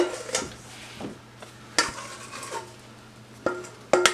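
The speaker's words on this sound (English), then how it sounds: "I'm going to use my nice bowl scraper to get everything out of the bowl" A bowl scraper drags chocolate pot de crème mixture out of a bowl, with a series of scraping strokes and sharp knocks against the bowl, quiet and close.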